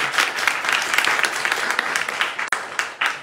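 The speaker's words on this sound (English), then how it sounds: "You getting claps." Audience applause at an evening program, a dense steady clapping that runs throughout with a brief dip near the end before resuming.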